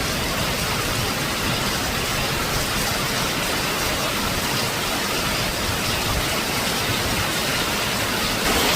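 Heavy rain pouring down onto rock during a sudden downpour, a dense steady roar of water spreading evenly across the whole stretch, loud and continuous with no voices.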